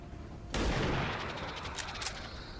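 In the XCOM 2 video game, a sudden burst of gunfire erupts after a moment of quiet, a sharp loud shot followed by a sustained rattling volley and echoing impacts that taper off.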